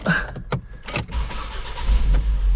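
A car engine is started close by; a few clunks and short starter bursts lead into the engine catching and running at a steady, rumbling idle.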